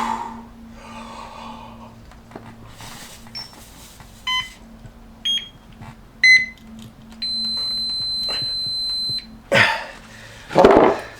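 Electronic workout timer during an isometric blood pressure exercise routine, sounding a few short beeps followed by a long sustained tone, with breathing and a sharp exhale around it.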